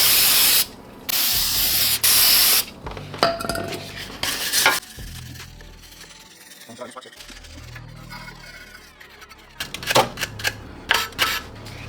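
Brake cleaner sprayed onto a rusty brake caliper from a Ford Focus ST, cleaned before painting: loud hissing aerosol bursts at the start, quieter handling noises in between, then several short sprays again near the end.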